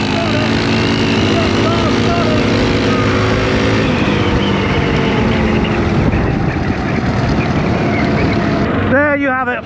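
Two DRZ400 and XR400 single-cylinder dirt bikes accelerate hard from 40 km/h, a loud continuous engine roar swamped by wind buffeting, rising steadily before easing off at the end.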